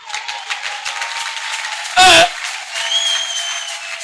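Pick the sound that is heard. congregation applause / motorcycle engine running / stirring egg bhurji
congregation applause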